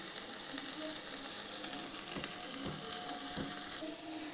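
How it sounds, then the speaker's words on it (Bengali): Spices frying in mustard oil for a Bengali-style chicken korma give off a steady, dense sizzle with occasional stirring scrapes and clicks, close and continuous, with no voices. "দেখুন মশলাটা একদম সুন্দরভাবে ভাজা হয়ে গেছে"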